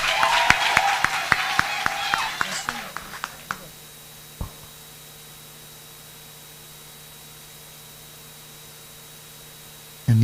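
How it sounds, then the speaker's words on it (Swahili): Wedding guests at a church ceremony clap loudly for a few seconds in a dense burst that thins to scattered claps and fades out, followed by near silence with low room hum. "Makofi zaidi kwake"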